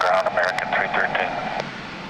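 An American Airlines Airbus A321 airliner arriving from Dallas Fort Worth comes in to land at San Diego, its broad, steady engine roar close and loud, tapering slightly toward the end, with a voice talking over it.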